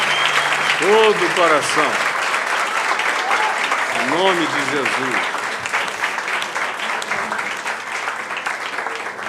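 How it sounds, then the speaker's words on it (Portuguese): A church congregation applauds with joy, keeping up a dense, continuous clapping while a worship leader speaks loudly over it and voices call out. "Quem está feliz, aplauda o Senhor com alegria."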